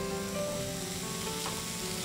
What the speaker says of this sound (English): So it's going to sizzle.